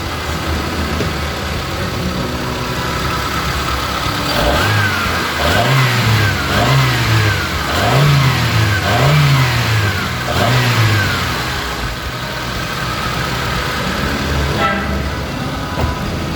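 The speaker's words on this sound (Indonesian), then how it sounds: "Tidak ada kendala, kita coba gas." A 1994 Honda Civic Genio SR4 engine idles, then revs up in a series of rhythmic bursts, rising and falling repeatedly before settling back to a steady idle.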